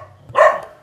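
A single short dog bark, loud and close, rising sharply after a brief low murmur and then fading quickly.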